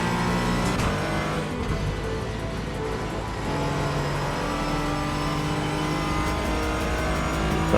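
A Porsche 718 GT4 laps Lime Rock Park in the iRacing sim, its engine droning loud and steady with rising and falling revs through gear changes and a brief tire squeal, alone without speech.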